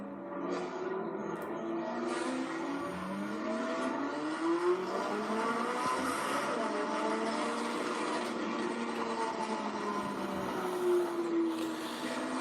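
A Porsche GT3 RS sports car pulls away and accelerates, its engine note rising through the gears as a steady, continuous roar heard from inside the car, with no talking.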